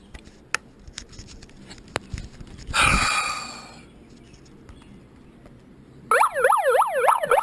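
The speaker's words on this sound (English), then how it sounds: "Not only did he get a megaphone, he got one with a siren on it." A handheld megaphone with a built-in siren wails out loud and close in a rapid up-and-down electronic sweep, following a quiet stretch with scattered small knocks and a brief burst of noise.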